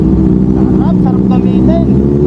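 A Kawasaki ZH2 motorcycle with an aftermarket exhaust and cat delete drones steadily and loudly underneath someone talking over it.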